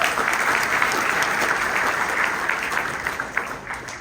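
An audience at a talk gives a sustained round of applause. The clapping is dense and even throughout and thins slightly toward the end.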